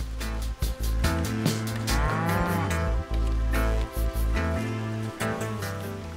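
Red and white-backed cattle, heifers and cows of a bull's herd walking along a fence toward pasture, moo loudly and repeatedly in overlapping calls, close by, with no talk.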